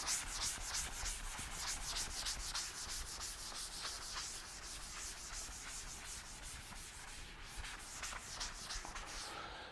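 Steady rubbing and wiping of writing off a classroom board with an eraser, continuous close scraping strokes throughout with no talk.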